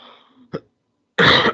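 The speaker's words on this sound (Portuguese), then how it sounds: "Pessoal, perdão, já tá minha tosse alérgica voltou." A single loud, harsh allergic cough bursts out after a short throat-clearing noise and a moment of quiet, close to the microphone.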